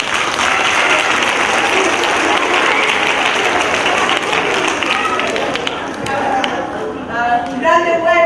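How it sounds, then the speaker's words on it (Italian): An audience at a Neapolitan poetry evening applauds a poet loudly and continuously, the clapping fading toward the end as an announcer's voice begins to come through over it. "Un grande applauso!"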